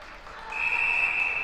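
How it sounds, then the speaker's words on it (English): A netball crowd from Gibraltar roars and applauds, a broad wash of cheering that swells after a brief moment and stays loud, with a sustained whistle cutting through the noise. "And the Gibraltar crowd goes wild."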